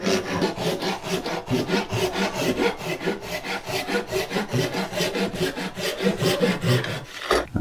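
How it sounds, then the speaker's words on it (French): A wide-kerf hand saw cuts steadily through wood, its rasping strokes back and forth in a quick, even rhythm, close and loud throughout. "Donc je vais prendre une scie qui a un trait assez large"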